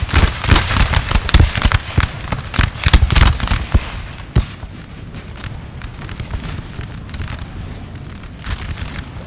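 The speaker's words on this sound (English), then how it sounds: "keep firing, men, keep firing" Massed musket volleys from line infantry in a Napoleon Total War multiplayer battle, a dense run of sharp cracks and booms that is loudest early on, then thins to scattered pops over a rumbling battlefield backdrop.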